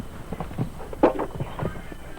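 Hooves of a horse on a show jumping course thud and clop in an uneven, fairly quiet rhythm, with one heavier landing at the midpoint.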